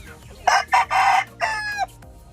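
A rooster on a backyard breeding farm gives one loud, close crow made of several strained bursts over about two seconds, with faint low background noise.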